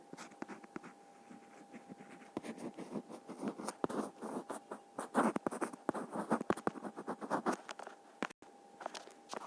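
A pen or pencil writes steadily on paper during a math lesson on factors, giving close, continuous scratchy strokes in short bursts with brief pauses, no talking over it.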